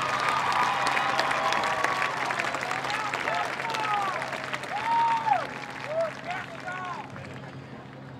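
Crowd applause for drum majors and flag captains at a marching band invitational, sustained clapping from a large audience with scattered whistles and cheers rising over it and a voice briefly audible.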